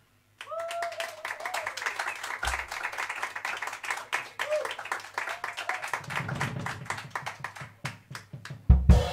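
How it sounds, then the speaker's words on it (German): Audience clapping at a live rap concert in a jazz club, scattered and uneven hand claps with some rhythmic stretches, a faint voice and low hum beneath, ending in a louder burst. "Begrüßen Sie mit einem frenetischen Applaus."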